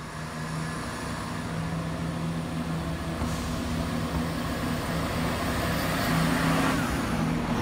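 Train 7207 departing from Elmswell station towards Stamford, a steady engine drone and rolling rumble heard at a distance, gradually building slightly, with no voices.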